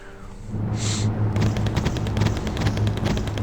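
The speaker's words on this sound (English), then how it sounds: "It's launching its machine guns at them." A T-55 tank fires its machine guns in the Wargame video game: loud, sustained rapid bursts of gunfire with a brief sharper shot early on, continuing almost without pause to the end.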